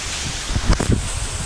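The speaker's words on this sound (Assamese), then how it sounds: "কেনে বতাহ দি আছে" Strong wind blowing during stormy bad weather with rain, a steady broadband rush with a few low buffeting gusts against the microphone, continuous and fairly loud, with no speech.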